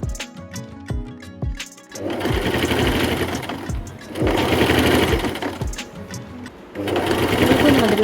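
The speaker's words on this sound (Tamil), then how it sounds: "இப்போ வந்து ஃபஸ்ட்டு வந்து அனார்கலி தான் ஸ்டிச் பண்ண போகிறேன், பிளாக் கலர் அனார்கலி." Sewing machine stitching a black Anarkali dress, three loud close bursts of rapid whirring stitching separated by short pauses with a few clicks, and a voice speaking in the gaps.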